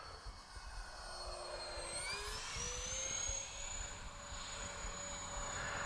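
An X-Fly J-65 RC business jet with twin 70mm electric ducted fans passes low with gear and flaps down, a steady whining rush whose pitch shifts as it goes by, moderately distant and without talk.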